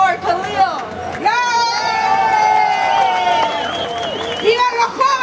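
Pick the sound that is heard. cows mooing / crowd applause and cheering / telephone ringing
crowd applause and cheering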